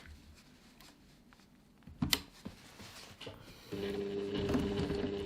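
A sewing machine top-stitches the top edge of a reusable fabric grocery bag, starting with a few faint clicks and handling noises before settling into a steady, close, continuous whirring hum.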